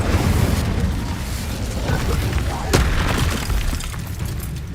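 Incendio fire spells are cast in the Hogwarts Legacy video game, giving roaring, booming bursts with a sharp crack partway through over a constant rumbling background.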